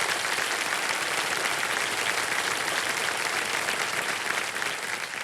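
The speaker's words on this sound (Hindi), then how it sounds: "जोरदार तालियां बढ़ जाए जावेद साहब के लिए।" Loud, sustained studio audience applause on a Hindi TV quiz show set, dense clapping filling the room steadily from start to finish with no voices standing out.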